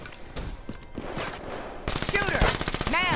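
Rapid automatic gunfire from a weapon in Black Ops 3, loud dense bursts of shots that grow heavier toward the end, with game effects mixed in.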